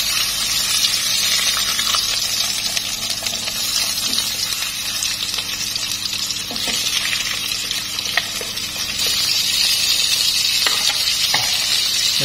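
Tofu frying in a pan with shallots browned in oil, a steady loud sizzle running throughout with occasional stirring clicks and scrapes, no talking.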